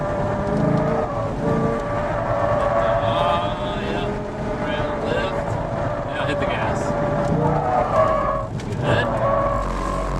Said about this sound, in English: Now nail the gas hard.